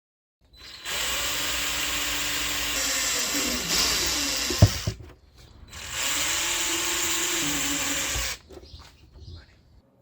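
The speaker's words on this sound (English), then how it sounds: "With a 4mm drill, let's make 2 holes, here and there, for the magnets." A 4mm drill bores holes for magnets in a Mini Cooper S R53 interior part, whining loud and steady for several seconds, pausing briefly, then running again for a second long stretch, with small knocks in between.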